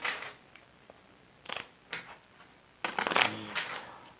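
Short bursts of riffling and snapping, like a deck of cards being shuffled, in several separate quick runs with pauses between.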